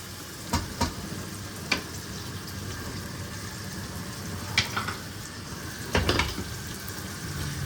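Keema masala with tomatoes fries in a pan, a steady close sizzle with a few sharp clinks and scrapes of a spoon stirring, no voices.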